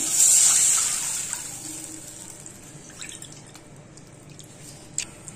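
Two and a half cups of water go into a kadai for rava kesari: a loud splashing pour at the start that fades into a thin trickle and scattered drips.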